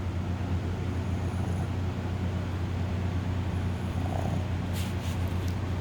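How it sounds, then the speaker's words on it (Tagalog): A sleeping pet dog snores while being cuddled, a steady low rumbling breath that runs continuously and close up. "Yan, humihilik siya"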